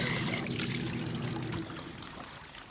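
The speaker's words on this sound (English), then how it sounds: "refill with fresh water for rinsing." Fresh water pours steadily into a laundry tub for rinsing hand-washed clothes, a close, continuous splashing stream that softens slightly toward the end.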